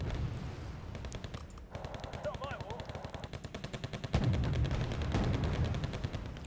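Heavy gunfire in Wargame Red Dragon as Marines come under attack: rapid machine-gun bursts rattle continuously, with rifle shots and distant artillery swelling louder toward the end while a player speaks over the fighting.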